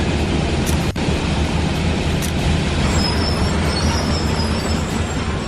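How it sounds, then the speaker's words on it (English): Backhoe loader engine in a construction vehicle video game, a loud steady broadband rumble running throughout with a brief sharp click near the start. "Backhoe."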